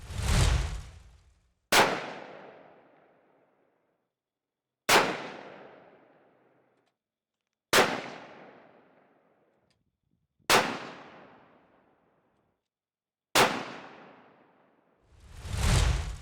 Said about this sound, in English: So I shot 5 shots with the 308 Winchester barreled action in the chassis